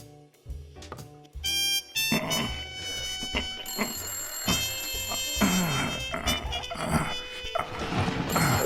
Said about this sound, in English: And now the phone is ringing.